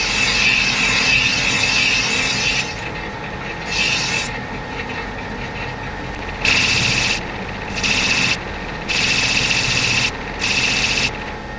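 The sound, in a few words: chamfering the edge of a cylinder sleeve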